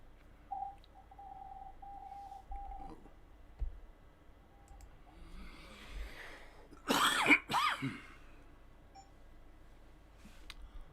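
A cough comes over a radio net, a short burst of two or three harsh throat-clearing coughs, preceded by a brief tone and some faint clicks on an otherwise quiet channel.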